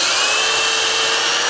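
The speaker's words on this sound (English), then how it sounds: "So then we take and drill another hole just down here." A power drill bores a hole into a wooden birdhouse, a loud, steady, high-pitched whine held for the whole moment at close range with no talking.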